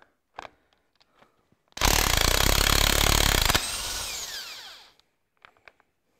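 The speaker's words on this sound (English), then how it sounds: "I'm just going to use my Makita nut gun." A Makita impact wrench with an 11/16 socket spins off cylinder head nuts on a Ferguson TEA20 tractor, a loud sustained buzzing hammer lasting a couple of seconds, then winding down, with faint clicks of handling before and after.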